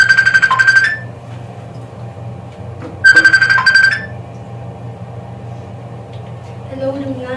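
Phone ringing while calling a friend, two bursts of a loud electronic ringback tone about three seconds apart over a low background hum, with a soft voice near the end.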